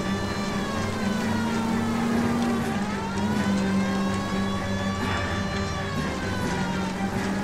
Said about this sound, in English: Get rid of that siren